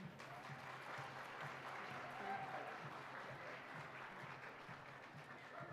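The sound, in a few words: audience applause at a pow wow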